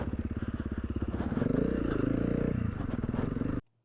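A big-bore Honda CRF300L dual-sport motorcycle rides close by with a pulsing, throbbing engine note, a grinding scrape of foot pegs rubbing the ground partway through, then an abrupt stop.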